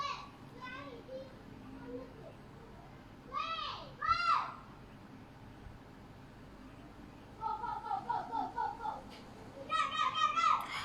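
Children playing outdoors on an afternoon, their shrieks and chattering voices rising in several bursts at a moderate distance, with quieter gaps between and steady background ambience.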